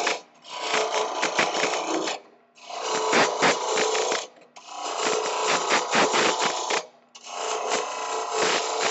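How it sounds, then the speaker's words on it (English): Wood being whittled down into a mallet handle in four long, rough scraping strokes, close up, each separated by a short pause, with no talking. "now we're going to whittle this end down for the handle"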